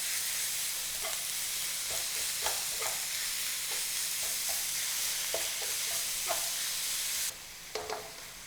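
A pound of ground beef sizzles steadily in a big wok over medium-high heat, with a constant frying hiss broken by scattered scraping and stirring knocks, close up and without speech.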